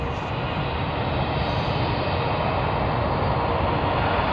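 A United Boeing 787-9 Dreamliner airliner gives a steady, broad jet roar at moderate distance, holding constant without a break, with no voices over it.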